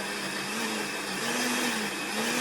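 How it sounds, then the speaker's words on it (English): A blender whirs through shrimp bobó ingredients with water added, a loud, continuous motor drone that rises and falls slightly in pitch across the run, with no voices. "I think this is the better way to go to use the blender"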